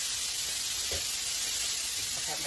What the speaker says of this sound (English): I'm gonna let that saute